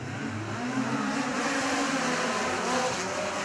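USAC midget race cars roar around Jefferson County Speedway in a heat race, a dense, continuous engine drone holding steady and fairly close throughout.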